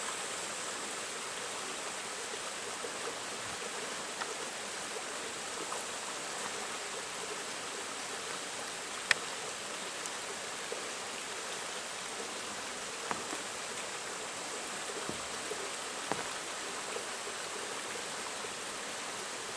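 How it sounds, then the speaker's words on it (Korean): A stream flows through Toogdong valley on Deogyusan mountain, making a soft, continuous rushing hiss that stays even throughout, with no voices. "톡톡물 계곡 이 정도로 흐르고 있습니다."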